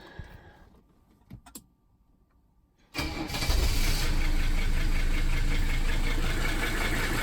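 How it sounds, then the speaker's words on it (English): A Mercedes 300SD diesel engine cranks and catches after a quiet pause, then settles into a loud, steady, slightly rough idle close by. "That started up pretty good, actually. A little bit rough"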